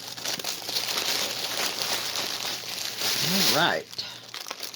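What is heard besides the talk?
plastic mailer bag being opened, crinkling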